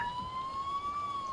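Ambulance siren in the emergency-services video game Emergency 4, a steady wailing tone holding through the short moment over a low background rumble, fairly quiet with no talking.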